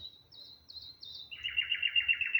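A bulbul calls in the open, first a few short, high whistled notes, then a longer rapid trilling phrase, clear and close with no voices.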